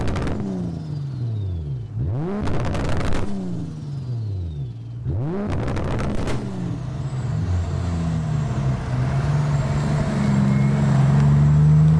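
A BMW 525d with a 2JZ engine swap and 604 bhp pulls away, engine note rising and dropping through sharp shifts before settling into a building, loud rumbling drone.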